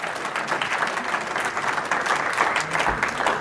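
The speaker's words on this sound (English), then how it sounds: "I will pass along the applause." Applause from a crowd at a book launch gala fills the room, a steady, dense wash of clapping that holds at an even level from start to finish.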